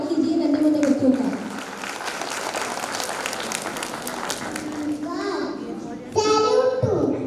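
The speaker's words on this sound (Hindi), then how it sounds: "Let's give them a big round of applause before they hit the stage" A crowd applauds steadily at a kindergarten graduation ceremony, welcoming young nursery children onto the stage, with a host's voice and children's chatter running over the clapping throughout.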